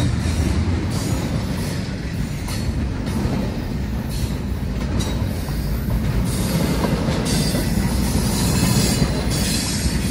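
A Pan Am Railways train rumbles past continuously through Baldwinville, with rhythmic clatter of wheels on the rails and occasional squeals over a heavy low roar.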